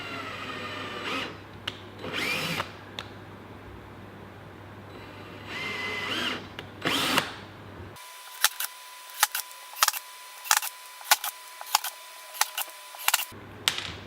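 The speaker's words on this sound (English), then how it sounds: "So I'm just going to screw a screw in here." Power drill driving a screw into wood while building a simple coat rack, a run of sharp, evenly spaced clicks and short whirs up close, preceded by quieter handling knocks and brief mechanical bursts.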